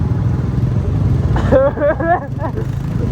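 Engines of a group of seven or eight motorcycles on a ride rumble loudly and continuously up close, while a voice speaks over them.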